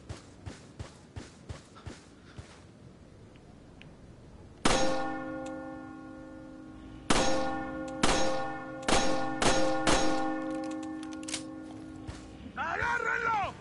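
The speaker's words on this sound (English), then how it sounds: "If you could ring the bell with a shot," A church-style bell in the Resident Evil 4 video game rings out loudly when struck by a gunshot, clanging several times with long ringing tones between the hits, after a quiet stretch of faint game sounds and some talk.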